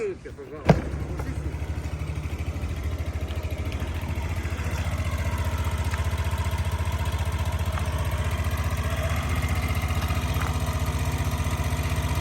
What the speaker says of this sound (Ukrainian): Гарно тихенько працює двигунчик